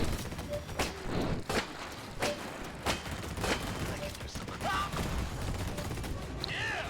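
Mortar strike explosions in the video game Disintegration land as a series of about six heavy booming blasts, roughly every half second to second, over a dense rumbling battle bed, with a few whistling effects near the end.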